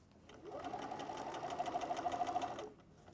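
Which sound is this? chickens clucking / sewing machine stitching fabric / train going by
sewing machine stitching fabric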